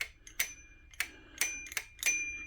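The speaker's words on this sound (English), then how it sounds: "You get a little bell." A small bell on a 5th Wheel M2 electric sports scooter rings in five or six quick, bright dings spaced about half a second apart, close and clear with no talking.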